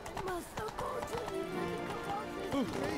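Horse hooves clip-clopping at a gallop in The Witcher 3 (Blood and Wine), with a brief whinny, heard under game music and overlapping talk.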